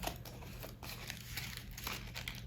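Paper coffee filters are folded and pressed flat up close, giving soft continuous crinkling and rustling with a few sharper creases, moderately quiet and with no voice.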